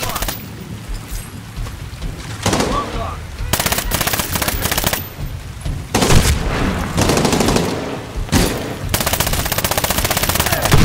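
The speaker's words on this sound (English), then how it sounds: "I'll just shoot him as cover." Machine-gun bursts and rapid gunfire from a shootout in the Medal of Honor video game, mission Changing Tides, with repeated loud volleys and sustained automatic fire across the scene.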